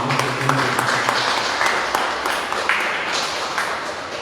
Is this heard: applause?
yes